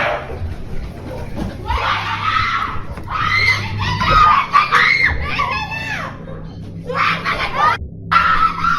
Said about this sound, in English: As night fell, frightening screams broke the peace in the neighborhood.